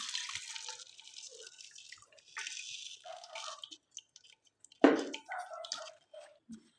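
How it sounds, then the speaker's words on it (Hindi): Milk batter is poured into ghee over a very low flame, heard as sparse wet drips and small splashes, with one sharper plop near the end, quiet and close. "बिल्कुल स्लो आंच पर हमने इसी घी के अंदर दूध वाला बैटर डाल देना है।"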